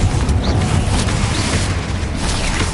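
Confringo spell blast in Hogwarts Legacy, a dense, loud rumbling burst of fiery noise sustained across the whole moment, heavy in the low end with no voice.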